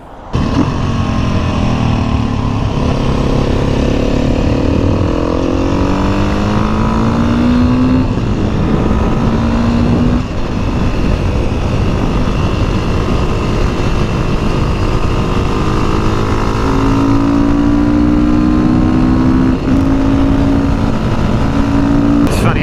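Beta enduro motorcycle engine running steadily and loudly up close, with rising and falling revs throughout a long stretch and no talking over it.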